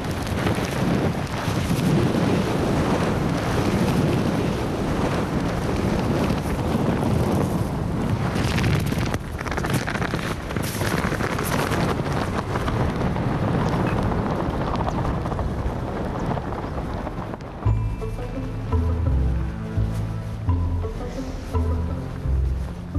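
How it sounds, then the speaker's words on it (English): Strong wind in Chile roars and buffets the microphone almost continuously, a loud rushing gust that eases near the end as other faint sounds come through. "Sometimes it's very windy, and sometimes it's less windy."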